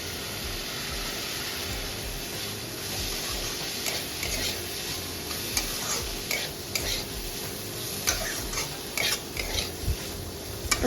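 Soy sauce is stirred into vegetables frying in a pan for Bengali-style chowmein, a continuous sizzle with repeated scraping strokes of a utensil against the pan, growing sharper and clattery toward the end.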